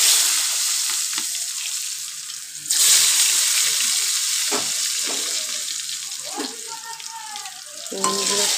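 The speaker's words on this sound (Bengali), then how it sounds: "তেলটা আবার গরম হয়ে গেছে, বেগুনগুলো এক এক করে দেবো।" Eggplant pieces are dropped one at a time into hot oil, each bringing a sudden loud burst of sizzling over a steady frying hiss, with occasional clinks.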